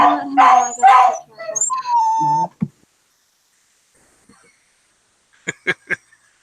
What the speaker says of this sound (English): Loud dogs.